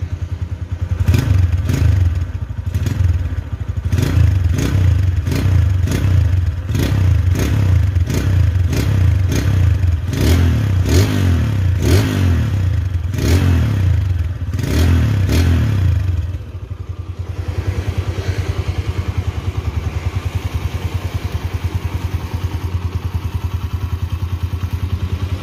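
A stock 2013 Honda Tiger Revo motorcycle engine revved in a series of sharp, evenly spaced blips with crackling exhaust pops, loud and close, then settling to a steady idle.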